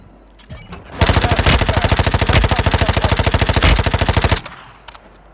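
An MP5 submachine gun fires in Warzone Mobile in one loud, rapid burst of automatic fire lasting over three seconds, with evenly spaced shots and a brief tail as it stops.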